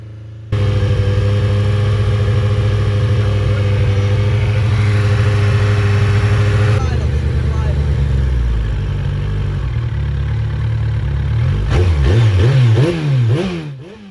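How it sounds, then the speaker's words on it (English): A Kawasaki ZX14R motorcycle engine idles loudly and steadily, then its pitch shifts and it revs up and down several times near the end. "Would you guys just listen to this engine? It sounds so healthy."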